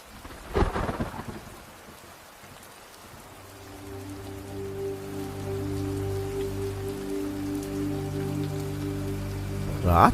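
A loud thunderclap near the start gives way to steady, heavy storm rain, set as a night-time audio drama scene; a sustained musical drone joins under the downpour from a few seconds in. No talking.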